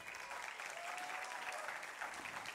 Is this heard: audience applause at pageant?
yes